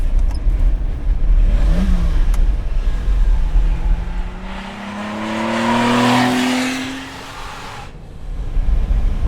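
A restored Lamborghini Miura S engine revs up and accelerates, its pitch climbing in sweeping harmonic bands, loud and close, then fades before another rumble returns.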